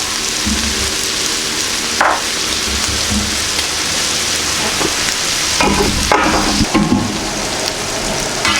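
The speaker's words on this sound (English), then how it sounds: "I'm going to put my onion down on my potatoes." Onions sizzle loudly on potatoes on a Camp Chef FTG600 flat top grill, a steady close frying hiss with occasional scraping and stirring sounds.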